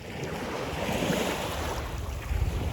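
Waves wash onto the beach at Al Soufah in Dubai, a continuous surf rush mixed with strong wind buffeting the microphone, close and fairly loud.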